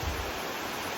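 Steady broadband rush of a waterfall or mountain stream, close and continuous with no voices.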